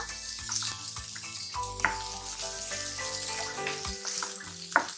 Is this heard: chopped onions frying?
yes